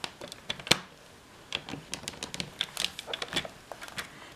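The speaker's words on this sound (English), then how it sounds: "we're going to score this at 1/2 inch" Paper piece for a pendulum swing card being scored at half-inch marks, a run of faint, quick scratchy ticks and taps close up, irregular and quiet with no talking.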